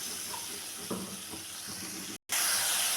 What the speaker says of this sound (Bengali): দিয়ে দিলাম মশলার বাটি ধোয়া জল